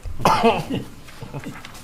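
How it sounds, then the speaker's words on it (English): Several harsh, close coughs burst out in quick succession during a zoning board of appeals meeting, loud and raspy, followed by quieter throaty sounds as the fit tapers off. "I'm coughing to death"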